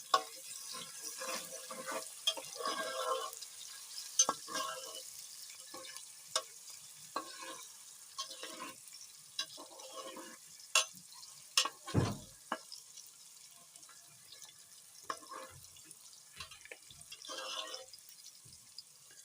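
Chopped ginger and garlic fry until golden in a pan for fish salan, a steady soft sizzle with scattered crackles and stirring scrapes; a sharp clatter lands midway.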